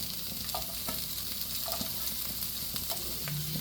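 Chopped small shallots frying in hot coconut oil for a Kerala-style fish roe thoran, a steady close sizzle and hiss with occasional stirring clicks and scrapes, no voices.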